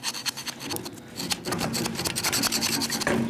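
A screwdriver scrapes paint and carbon deposits off a motorcycle engine cylinder head in a steady, close rasping rub that grows busier and louder after the first second, with no talking.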